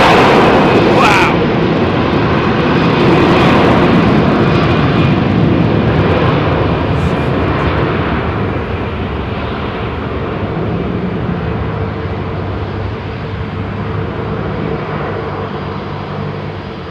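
A jet airliner departing runway 27R at London Heathrow thunders close and loud, a heavy engine roar that peaks early and then slowly fades as it climbs away.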